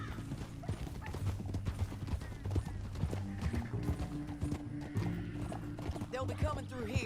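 Horse hooves clip-clop in Red Dead Redemption 2, a steady rhythmic clopping close by under game music and sounds. Someone talks over it at times, and a brief whinny is possible.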